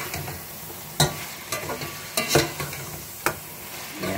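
Diced potato cubes fry in a pan for Udham aloo keema, a low sizzle punctuated by several sharp spoon scrapes and stirs at irregular intervals, close up with no talking.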